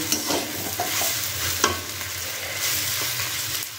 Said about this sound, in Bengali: কাসুরি মেথি দিয়ে আবার একটু নাড়াচাড়া করছি